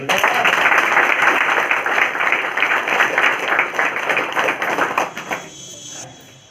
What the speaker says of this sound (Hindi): सर के लिए एक ताली बनता है।